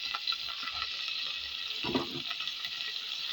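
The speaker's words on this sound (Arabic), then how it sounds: "طبعا هسه جاي يحمس اللحم المفروم ويا البصل والدهن" Minced meat frying with onion and fat in a pot makes a soft, steady sizzle with faint stirring scrapes, fairly quiet throughout.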